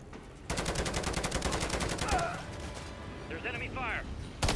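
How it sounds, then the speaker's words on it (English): Rapid automatic gunfire in the Call of Duty Modern Warfare 3 video game, a loud sustained burst of rhythmic shots, then scattered firing and game chatter mixed beneath, ending with a sudden sharp blast. "There's enemy fire."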